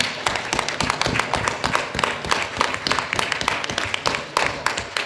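A convention audience at BronyCon 2013 in Baltimore gives a dense, steady round of applause, with many close hand claps blending into a continuous patter for several seconds.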